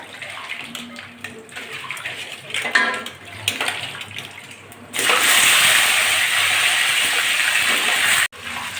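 Whole okra, washed and cut, dropped into hot oil tempered with five-spice seeds; a sudden loud, steady sizzle erupts and fills the rest of the clip after a stretch of quieter kitchen sounds.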